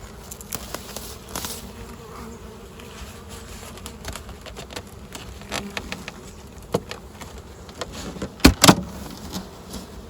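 Honeybees buzz inside a city farm hive in a steady, close drone, with a couple of sharp knocks rising above the hum near the end.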